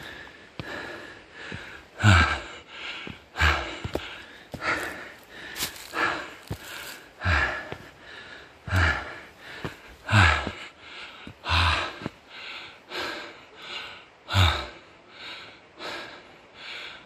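Heavy, rhythmic panting from a hiker climbing a mountain trail toward Daecheongbong peak, close and loud, each harsh breath repeating roughly every second with occasional gasps and sniffs.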